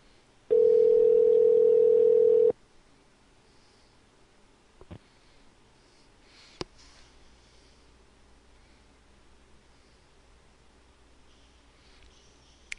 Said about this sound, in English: let's let this phone ring out